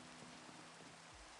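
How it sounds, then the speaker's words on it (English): Rain falling in the Minecraft video game, a faint, steady hiss of dense drops that runs through the whole short stretch with a low hum beneath and no talking. "it's raining in game now and in real life?"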